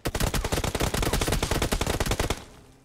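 Rapid automatic gunfire from PUBG Mobile, a loud sustained burst of closely spaced shots lasting over two seconds before cutting off into a brief fading tail.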